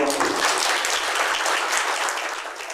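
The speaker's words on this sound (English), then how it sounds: "We'll give another round of applause" Conference audience at an Irish UFO gathering applauding, dense sustained clapping from a room full of people, fairly close and steady, tapering slightly toward the end.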